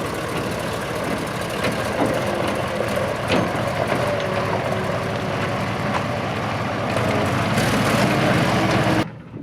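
A thirty-year-old TAM 260 T 26 truck's heavy engine rumbles loud and steady throughout with no talk, swelling slightly near the end before cutting off.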